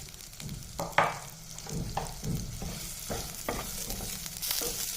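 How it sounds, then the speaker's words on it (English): Onion, garlic, ginger, cloves and cinnamon frying in oil for a curry masala, a steady close sizzle with repeated scraping stirs and spoon knocks against the pan, no voices. "Now fry the masala until the onions become light pink color."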